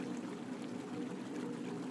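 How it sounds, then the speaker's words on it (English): A stream of water flows steadily with a soft, even rushing wash that stays constant and fairly faint throughout, with no voices. "You notice that there is a stream of steadily flowing water."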